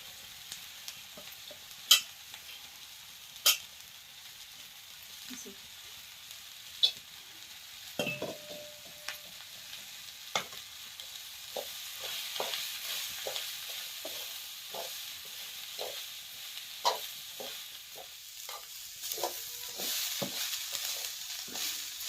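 Cabbage stirred and frying in a pan with garam masala in a village kitchen: a steady soft sizzle under irregular sharp spatula clanks and scrapes against the pan, close and with no talking.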